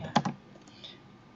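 Two quick computer keyboard key presses click close together, sharp and fairly near, followed by near quiet, as Ctrl C and Ctrl V shortcuts are used while working in CAD software.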